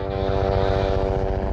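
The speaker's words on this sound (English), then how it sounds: "We rolled the engine back to flight idle" A Bell helicopter turbine engine runs at flight idle with steady, close whining tones over a low rhythmic thump of the spinning rotor, continuous and loud with no voices.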